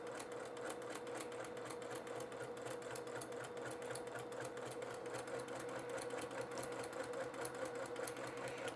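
A sewing machine runs continuously and evenly, stitching curved patchwork fabric pieces along a quarter-inch seam, with a fast, close, mechanical whirr and rapid needle ticking.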